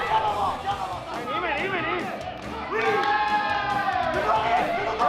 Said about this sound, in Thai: โอ้โหเสียงเชียร์นี่